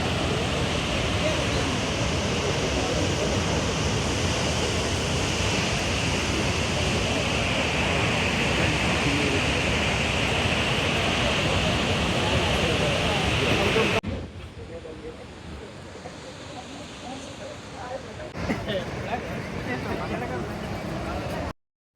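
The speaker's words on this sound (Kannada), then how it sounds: "ಈ ಜಗತ್ ಪ್ರಸಿದ್ಧವಾದಂತಹ ಜೋಗ್ ಜಲಪಾತದ" Jog Falls on the Sharavati river gives off a dense, steady roar for most of the stretch, then drops abruptly to a softer, more distant wash toward the end.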